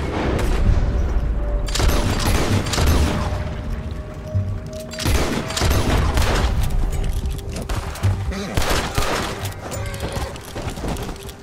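A Red Dead Redemption 2 shootout against US Army soldiers: heavy, overlapping gunfire with booming shots and rapid volleys that come in dense bursts and keep going throughout.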